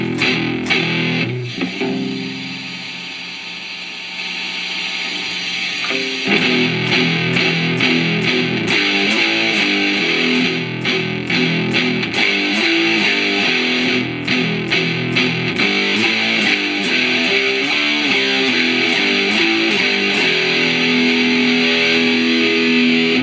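A Boss HM-2 distortion pedal emulation in Amplitube 5 at maximum distortion, a heavily saturated, buzzing electric guitar playing chugging riffs with rapid palm-muted strikes, loud and continuous for over twenty seconds with no talk.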